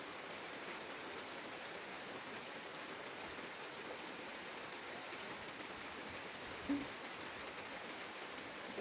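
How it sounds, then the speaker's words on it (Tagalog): Steady rain falls outdoors in a rural farm setting, an even, continuous hiss of drops on surfaces with no pauses and no voices. "Ito pa yung ulan."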